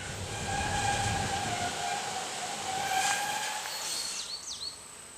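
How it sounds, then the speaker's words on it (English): An Iowa Southern shortline train crosses the Sheraton River on old Rock Island track, a steady rolling rumble with sustained horn tones layered over it, heard at a moderate distance with no talking. "our train crosses the Sheraton River"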